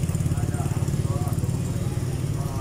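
A motorcycle engine runs steadily close by, a low rhythmic putter that holds even throughout, with a faint voice under it.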